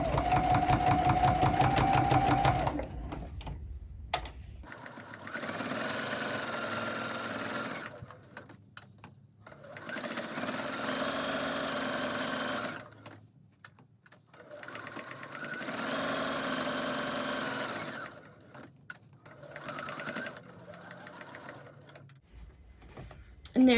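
Sewing machine stitching a fabric jar opener, running in several sustained whirring bursts separated by quiet pauses, close and steady.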